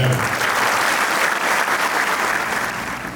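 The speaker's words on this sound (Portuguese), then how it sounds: "Os aplausos à professora Vera" An audience at a book launch applauds a professor, producing a loud, dense, continuous clapping that fades slightly near the end.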